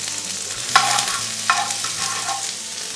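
Butter melts and sizzles in a pan for Afghani chicken, a steady bright crackle with a couple of light clinks and no voices.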